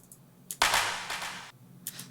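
A sharp electronic clap from a pre-drop drum fill in a remix hits loudly and rings out, followed by fainter delayed repeats of the same clap.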